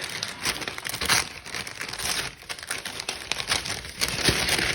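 Crinkly plastic packaging of salmon meat sticks for cats being handled and torn open up close, with steady rustling and crackling throughout and no talk.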